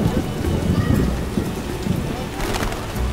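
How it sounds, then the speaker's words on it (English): Steady rain pours down, a dense, loud hiss of drops hitting the ground that persists throughout, with faint low rumbles underneath. "Wasn't supposed to rain."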